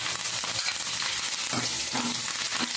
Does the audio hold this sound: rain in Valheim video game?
no